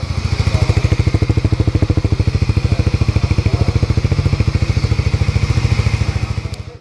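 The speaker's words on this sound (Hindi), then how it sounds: "Now finally it's time for exhaust." A Hero Harley-Davidson X440 motorcycle idles close by, its exhaust throbbing in a loud, fast, even thump with a slight metallic clatter, steady throughout with no one speaking.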